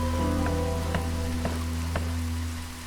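Drizzle ambience in the settlement-building game Against the Storm: a soft continuous patter over a steady low hum, with a few faint rhythmic ticks, quiet and without voices.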